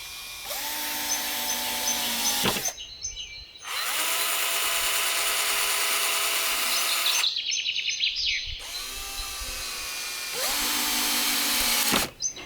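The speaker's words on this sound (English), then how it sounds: "Drill a hole and screw them together." A power drill whirs in three long bursts, its pitch rising and falling as it drills and drives screws into wood for a raised garden bed, with short pauses between runs.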